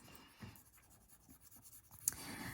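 A pencil shades across a small Zentangle paper tile that is already heavily inked, giving soft, quiet, scratchy strokes in a steady back-and-forth rhythm at close range, with one brief louder tick near the end.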